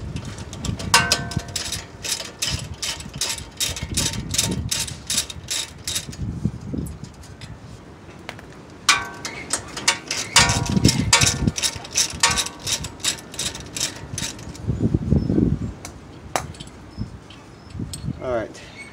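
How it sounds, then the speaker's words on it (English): A ratchet wrench loosens a brake line fitting on an M37 truck during a brake rotor job, giving rapid clicking bursts with pauses in between, close and fairly loud, with low mechanical thumps and some talk. "I'm just gonna unloosen those brake line"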